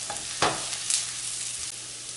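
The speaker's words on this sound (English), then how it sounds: "I'm going to add in the turmeric. And I'm going to fry this for 1 minute" Turmeric fries with browned onions in a pan, making a soft, steady sizzle close by, with one brief scrape of a utensil near the start.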